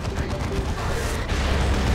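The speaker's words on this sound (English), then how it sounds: "He's going to lose the Baneblade to that orbital bombardment." An orbital bombardment beam striking a Baneblade super-heavy tank in the real-time strategy game Dawn of War II: Retribution, heard as a continuous, loud, rumbling roar of explosive noise with crackling bursts throughout.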